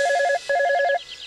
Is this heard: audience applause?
no